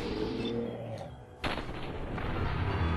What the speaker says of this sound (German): Oh, ein Schuss